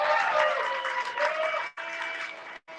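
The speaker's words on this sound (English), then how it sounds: "Can we give her a round of applause?" An audience at a live event breaks into dense, close applause that swells and then cuts off abruptly twice near the end.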